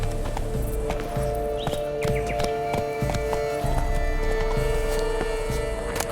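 Horse hooves clip-clop in The Witcher 3 video game, a steady rhythmic run of hoofbeats close and loud over a constant game ambience, with a brief whinny partway through.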